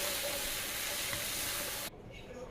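Spices and ridge gourd sauté in a pan, giving a dense, even sizzling hiss that drops abruptly to a muffled, quieter simmer near the end as a lid goes on, with no talking.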